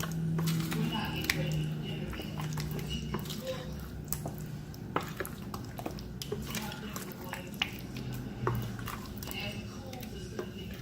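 Peach cobbler filling being stirred in a pot, giving soft wet squishes and light scrapes and clinks of a utensil against the metal, a steady close sound beneath intermittent talking.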